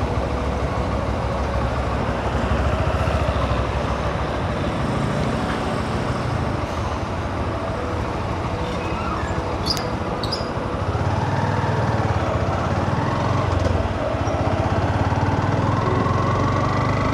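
Motorbikes and other traffic crossing the Lalon Shah bridge in Kushtia, a steady close engine drone and road rumble running the whole time, swelling slightly near the end, with no talk.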